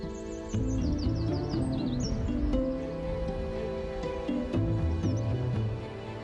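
A lesser yellowlegs gives a quick series of thin, high chirping calls on St. Mary's in the Isles of Scilly, faint and partly masked by a steady tonal music bed beneath.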